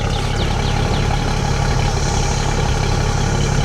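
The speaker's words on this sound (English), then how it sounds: "I'm going to listen to that exhaust for a second. It's just a single exhaust." A 1962 Ford Galaxie police car with a single exhaust idles close by, a steady, even low rumble with no revving and no voices.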